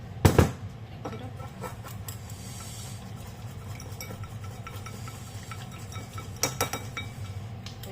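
A kale and quinoa salad with tofu gets tossed in a bowl with utensils: soft, irregular stirring and scraping, punctuated by a sharp clink near the start and a cluster of clinks toward the end, close and fairly quiet.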